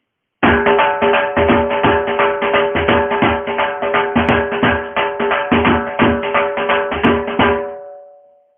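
Fast, driving dhol drum beat with steady rapid hits and a booming low end, loud and alone, ringing out briefly at the end.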